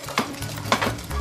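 A whole fish goes into a hot pan of oil, giving a soft sizzle with a couple of brief scraping clinks from the pan, close and fairly quiet.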